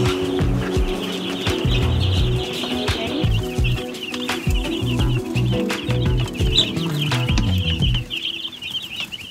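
A batch of about 150 newly arrived baby chicks chirps constantly, a dense high peeping chorus close by, with rustling, scratching and occasional soft thumps underneath.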